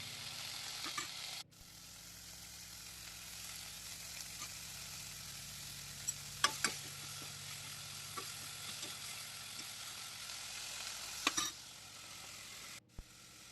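Fenugreek leaves sautéing in a pan for moong dal curry, a faint continuous hiss with occasional sharp clicks and scrapes, one abrupt break near the start, no talking.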